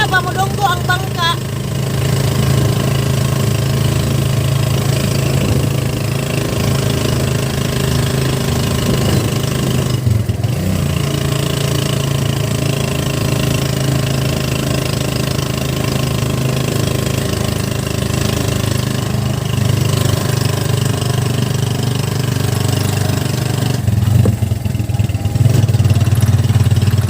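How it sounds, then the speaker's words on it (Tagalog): A fishing boat's outboard engine drones steadily as it nears the shore at Mana-ol, Dauis, Bohol, a continuous mid-pitched motor hum running throughout with voices talking over it. "Mudonggo ang bangka."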